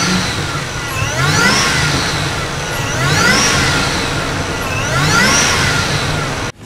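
A supercharged truck engine revs up three times in long rising surges, loud and close, with a whining blower pitch climbing over the rumble, then cuts off abruptly.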